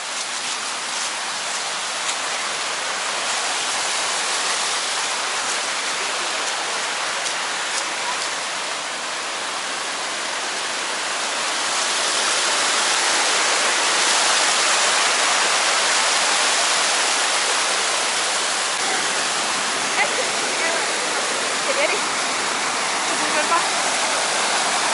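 Two mountain rivers in Chechnya meet and rush together, a loud, steady roar of churning whitewater that swells louder partway through, with a voice faintly audible beneath the torrent.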